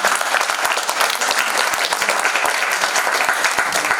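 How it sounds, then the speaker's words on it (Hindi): Loud, dense applause from an audience welcoming guests at a drama company event, steady clapping filling the space throughout without letting up. "एक बार जोरदार ताली से सबका स्वागत।"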